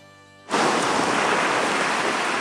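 Ocean waves at Santa Ana, Cagayan, the Paradise of the Northeast, surge in as a loud, steady broadband wash of surf that swells abruptly and then roars on continuously, with no voices.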